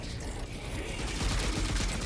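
Shotgun loaded with flechette rounds firing in a video game, heard as a steady, dense burst of gunfire with a rumbling low end that stays fairly even throughout and swells slightly midway.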